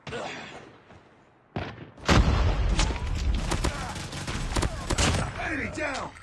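Frag grenade blast followed by dense bursts of automatic gunfire in Call of Duty Mobile, a sudden loud boom then rapid sustained shots and thuds, with brief voices mixed in.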